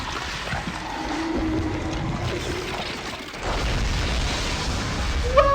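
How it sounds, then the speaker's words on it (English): A rolling explosion from the TV series Stranger Things: a long, heavy rumble that drops briefly and then surges back louder, with faint tonal blips near the end. "This is a different explosion though."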